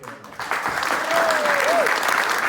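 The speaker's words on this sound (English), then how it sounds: "So a huge round of applause, please" Audience at the Chiswick Book Festival breaking into steady applause that swells after a brief pause and holds full, with a voice briefly rising over it.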